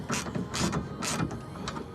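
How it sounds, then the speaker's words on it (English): A socket wrench ratchets in three quick bursts of rapid clicking while a bolt on a mid-height bed rack bracket is tightened on a 3rd-gen Nissan Frontier pickup. The clicks are close and moderately loud. "pushing up on this socket while I tighten this to try to get this bracket to stay"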